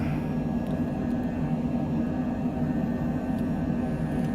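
Cessna Longitude business jet in Microsoft Flight Simulator 2020, steady loud engine roar with a deep low rumble and faint high whine, continuous and unbroken during the takeoff roll and climb.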